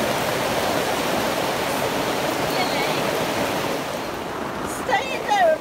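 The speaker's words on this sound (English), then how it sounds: "Yeah, it's pouring with rain." Heavy rain hammers steadily on a tent during a huge storm while camping in France, a loud continuous wash of noise throughout, with brief voices near the end.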